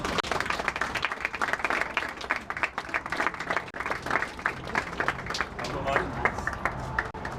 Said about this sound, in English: Round of applause for Mitchell